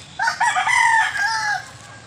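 A Bulik native chicken rooster gives a single loud, close crow that rises and holds before trailing off, with no voices around it.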